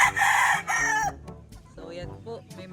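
A rooster crows loudly and close by, a long strained call followed by clucking and softer fowl noises.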